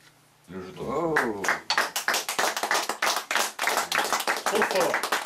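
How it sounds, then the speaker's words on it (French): A small group claps after a magic trick, sharp close hand claps in an uneven rhythm following a brief burst of excited voices, with talk mixed in. "Et sous les tonnerres d'applaudissements"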